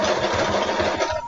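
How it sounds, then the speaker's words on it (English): A tiny sewing machine runs continuously at close range with a dense, steady mechanical whir, working on cosplay materials. "it's a tiny sewing machine"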